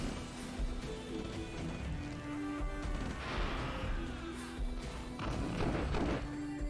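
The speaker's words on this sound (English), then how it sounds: "Harvester going down here." Dull explosive thuds and crashes as a harvester unit is destroyed in the strategy game Dune 2000, layered over continuous game battle noise with several impacts toward the end.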